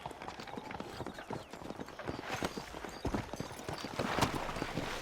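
Galloping horse hooves in the Red Dead Redemption video game, a quick, even run of clip-clop beats that carries on throughout and grows slightly louder toward the end.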